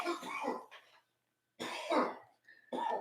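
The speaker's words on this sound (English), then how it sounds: "Oh no, I hear him coughing." A man who has been smoking a cigarette coughs and clears his throat in three rough, hacking bursts separated by short pauses, close and fairly loud.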